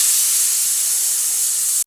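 A pressure cooker releases steam through its whistle while Tamil sambar cooks, giving a loud, close, continuous hiss that cuts off abruptly at the end.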